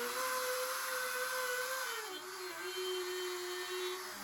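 A router cutting magnet recesses into walnut gives a faint, steady high whine whose pitch drops partway through as the bit bites into the wood, heard alone without talk.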